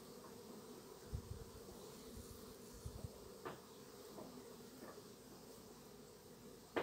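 A honeybee colony at a hive during rapid swarm-season growth, giving a steady, faint insect hum with a few brief louder thumps and clicks close by.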